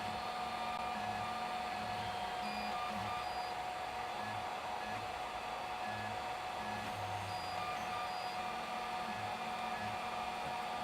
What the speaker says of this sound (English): I am printing it rather slow. At 40 millimeters per second.